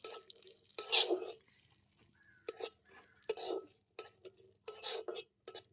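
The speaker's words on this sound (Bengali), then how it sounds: "পাঁচ সাতটা মতো কাজুকে কুচিয়ে নিয়েছি এর মধ্যে দিয়ে দিচ্ছি আর নিয়েছি দুটো আলমন্ড বাদাম আর দশ বারোটা মতো কিশমিশ সব একসঙ্গে দিয়ে হালকা করে আমি এটাকে ভেজে নেব" Chopped cashews, almonds and raisins fry lightly over low heat in a pan, with bursts of metal-utensil stirring and scraping broken by short pauses and a faint sizzle underneath.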